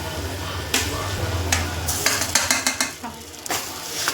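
Boiled potatoes and spices are mixed in a pan for samosa filling, with irregular clacking and scraping spoon strokes over a low background hum.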